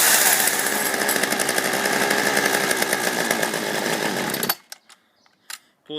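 Chainsaw engine running loud and steady at close range, then cutting out abruptly near the end, leaving a few faint clicks and knocks.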